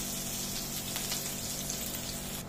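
Ginger and green chilli fry in hot mustard oil with cumin and asafoetida, a steady, close, continuous sizzle and crackle that holds evenly throughout, with no voices.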